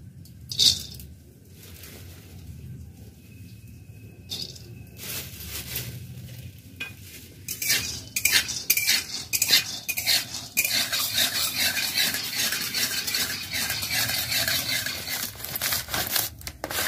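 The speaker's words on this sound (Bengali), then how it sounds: "এখন বাদাম ভাজবো আমি।" Raw peanuts roast in a pan, stirred with a utensil: scattered clicks and scrapes at first, then dense continuous rattling and sizzle-like crackle as stirring picks up, close and steady, with no speech.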